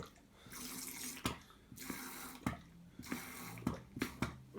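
A thickening solution from a bottle is poured into a homemade slime mixture, giving a close, splashy liquid trickle in several short bursts separated by brief pauses.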